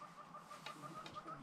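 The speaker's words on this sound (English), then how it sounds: "all the other birds screaming and going and chirping and tweeting" Birds call at Mapungubwe in the wild, a faint steady series of short repeated chirps at a regular pulse, distant and alone over a soft background.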